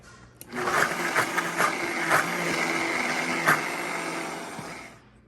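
A kitchen blender whirs steadily as it purees garlic scapes with a butter substitute, the motor starting abruptly, running loud and close for several seconds with small surges, then winding down.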